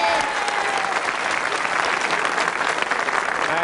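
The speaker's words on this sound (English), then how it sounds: "give me a round of applause" Steady, dense applause from a studio audience on a British Christmas TV show, a continuous even wash of clapping for the whole stretch with no voices over it.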